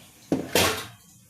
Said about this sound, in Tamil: பாத்திரத்தை தேய்ச்சி கழுவி வச்சுட்டேன்